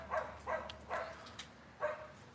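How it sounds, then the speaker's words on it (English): A dog barks a few times at a distance, short separate woofs spaced unevenly against a quiet background. "Dog barking in the background."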